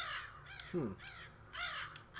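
Crows caw repeatedly in the video game Sense, a cyberpunk ghost story, with several harsh calls in short bursts at moderate distance and a faint voice underneath.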